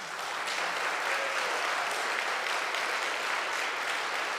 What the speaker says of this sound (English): and you clapped